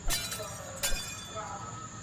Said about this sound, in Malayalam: 3 കപ്പ് പൊട്ടിക്കാം നമുക്ക്.